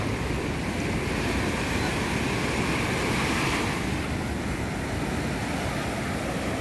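Big ocean waves rolling in at Bucana beach in Nasugbu, Batangas, a steady roaring wash of surf close by, with wind buffeting the microphone throughout and no voices.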